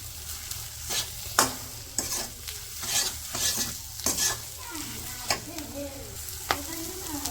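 Ground spices being stirred and fried in a pan during village home cooking, a steady sizzle broken by repeated scraping strokes of the spoon, close and fairly loud, with no voices.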